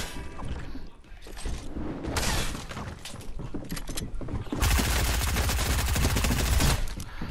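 Fortnite shotgun blasts and gunfire in rapid bursts, with a dense, sustained volley of loud shots in the second half and scattered sharp shots earlier, set over game sounds.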